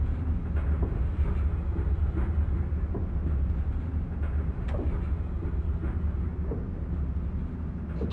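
A train in a simulator game accelerates, a constant low rumbling drone with steady rolling noise that holds at a loud, even level throughout, with no voices over it.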